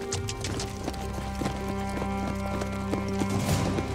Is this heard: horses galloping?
yes